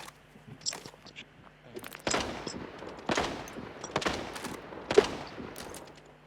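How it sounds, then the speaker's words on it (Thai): Gunfire in the video game Arena Breakout, several sharp bursts of shots in quick succession, moderately loud with rattling tails, over a faint steady game background hum and no talking. "ก็ผมได้ยินเสียงมันยิง"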